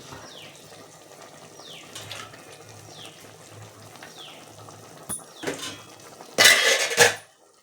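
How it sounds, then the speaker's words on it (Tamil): Water splashes and pours into a pot of chicken kulambu with turmeric, chilli and coriander powder near the end, a loud burst after a quiet stretch with a few clinks and soft background noise. "தண்ணி ஊற்றி வேக வரணும்"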